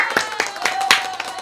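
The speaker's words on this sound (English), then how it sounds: "Round of applause" A canned applause sound effect at a podcast taping, heard as a short burst of scattered clapping with some crowd noise, fairly close and of moderate loudness.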